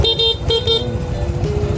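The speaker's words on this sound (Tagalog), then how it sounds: "Busina po. Busina." Vespa Sprint scooter horn, up close and loud, sounding as a few short beeps followed by a longer steady tone.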